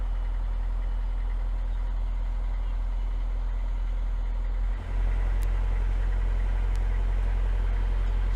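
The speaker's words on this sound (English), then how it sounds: "you can probably hear the noise from the busy M56 which is behind me" Steady traffic rumble from the busy M56 motorway running parallel to a canal, a continuous low drone of cars and trucks heard from a distance with no voices.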